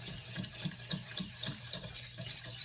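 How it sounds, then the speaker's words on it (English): Tomato pizza sauce with a pinch of sugar simmers steadily in a pan, a continuous soft bubbling hiss with a gentle, regular pulsing rhythm, close and even throughout. "Let that simmer down"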